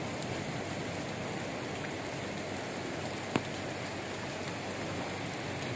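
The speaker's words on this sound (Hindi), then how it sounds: "हालांकि अब दूसरी बारिश हो गई है" Heavy rain drums steadily on a camping tent throughout, a dense continuous hiss with one brief sharp tap near the middle and no voices.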